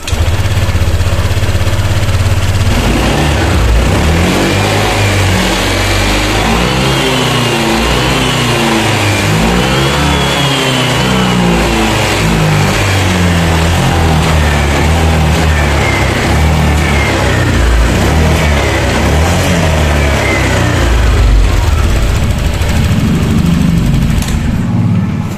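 A motorcycle engine, checked for sputtering at mid RPM, runs loud and close for the whole stretch, revving up and down repeatedly from idle with a rough, throaty tone.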